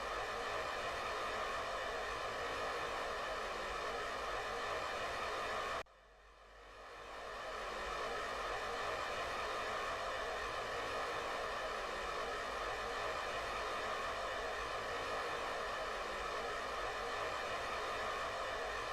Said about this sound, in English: Very loud engines.